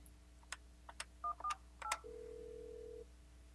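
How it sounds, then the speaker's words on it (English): Dialing tones from an Alcatel-Lucent 8068s desk phone: several short keypad beeps in an uneven sequence, then a steady tone lasting about a second, close and clear with no talk. "I'm going to start by dialing my demo station."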